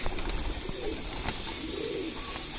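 Homing pigeons at a loft coo softly close by as a flock is let loose, two low murmuring coos rising over a steady airy background hiss.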